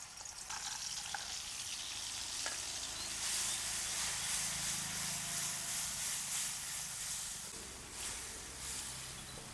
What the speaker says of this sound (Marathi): आपण कच्ची मिरची आणि लसूण कुटून घेतले त्याच्यामुळे तेलामध्ये परतून घ्यायचं आहे.